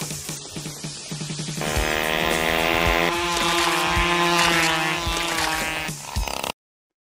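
A voice mimics a motor engine by mouth, building from sputtering pulses into a sustained buzzing drone with harmonic tones, then cutting off abruptly into silence.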